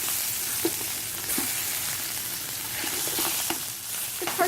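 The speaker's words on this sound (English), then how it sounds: "I'm going to go ahead and turn these around." Seasoned chicken pieces frying in a pan and being turned, a constant loud sizzle with occasional soft knocks and shuffles as pieces are flipped, with no voice.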